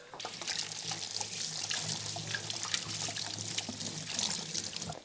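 Water pours and trickles steadily into a bowl to soak bread, a close, continuous splashing stream for several seconds without talk.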